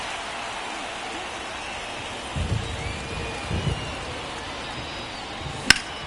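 Steady rain hisses across the whole stretch of a baseball video game's ballpark scene in Los Angeles, with two brief low rumbles midway and a sharp crack near the end.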